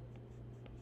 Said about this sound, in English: I'm pushing and then I pull up with my pencil.